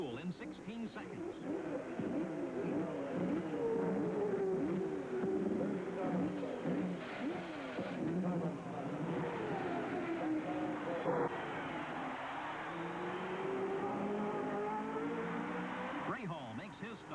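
Race cars at the 1986 Indianapolis 500 scream past and rev during pit stops, with overlapping engine whines rising and falling in pitch over continuous crowd and track noise, under a commentator's voice.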